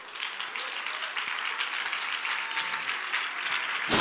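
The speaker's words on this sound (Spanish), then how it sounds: "Dale un aplauso" Applause from a church congregation during a Spanish-language sermon, a steady patter of many hands held at moderate level, ending in a sudden loud burst.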